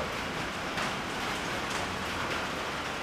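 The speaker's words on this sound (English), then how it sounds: "got a tropical storm coming through, so lots of rain, lots of noise" Rain from a passing tropical storm pours down steadily outside a garage where a 1980 Camaro Z28 is worked on, a faint, even hiss of falling drops without any break.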